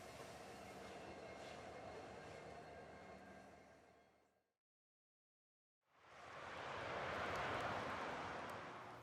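Union Pacific Big Boy 4014 steam locomotive train rolling on the rails near Evanston, a steady broad rumble that fades away to silence, then a louder burst of rushing noise returns close by.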